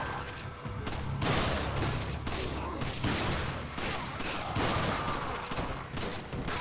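Gunfire in Resident Evil 5 during a fight with shield-carrying enemies, with a few sharp, loud shotgun-like blasts spread across the stretch over a dense game backdrop.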